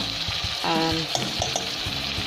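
Turnips being stir-fried for bhujiya, a steady close sizzle with scraping stirs and a few sharp clinks of the utensil against the pan, no talk.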